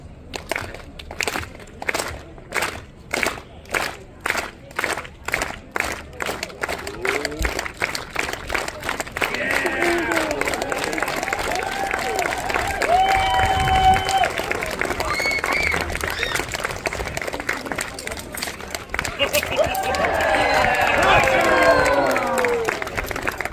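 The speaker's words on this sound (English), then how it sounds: "would you please join me in a rhythmic clap?" A crowd at a Renaissance festival claps in steady unison rhythm at first, then breaks into loose applause, cheering and crowd noise, with a performer's voice over it and a bright whistle or horn note near the end.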